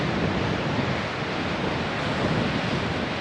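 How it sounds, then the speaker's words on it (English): Steady, loud rushing wind noise buffeting the microphone throughout, broadband and constant with slight gusty swells, no voices, outdoors at Point Cabrillo Lighthouse on the Mendocino coast, California. "It is way too windy out here for a hat like that."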